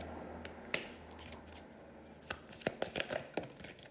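Playing cards are laid down one after another on a table, soft close slaps and flicks, scattered at first and then several quick snaps in a row, faint with low background hum.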